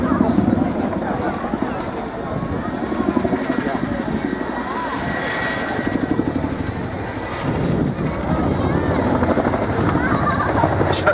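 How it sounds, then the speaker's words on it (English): Chinook twin-rotor helicopter flying at an RAF air show, a loud continuous rhythmic rotor thump with turbine whine, while an announcer talks over the public address. "you'll now see the unique silhouette of the Chinook."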